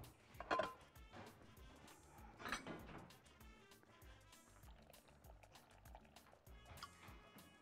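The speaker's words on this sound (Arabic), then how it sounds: "وكوبايه الميه." A cup of water is poured into chocolate basbousa batter mixed with sugar, cocoa and lemon, making faint splashing pours in a couple of short bursts, quiet and close.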